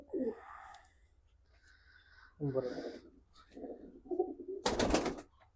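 A pigeon gives low murmuring coos in short bursts while people talk nearby, ending in a louder burst of noise.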